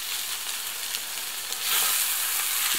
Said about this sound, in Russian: Обжариваем, помешивая